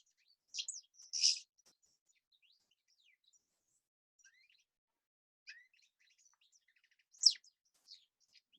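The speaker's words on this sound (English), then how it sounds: "So there's quite a few elements to the goldfinch. It's quite continuous. It chatters on." Goldfinch song in short tinkling, twittering bursts separated by pauses, fairly clear and close with quiet gaps between phrases.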